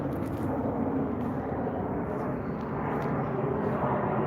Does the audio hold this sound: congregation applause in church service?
no